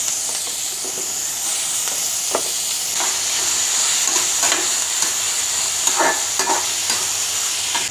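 Tomatoes and onions fry with cinnamon, cloves and cumin for a chow chow curry, making a loud, steady close sizzle with intermittent stirring scrapes in the pan.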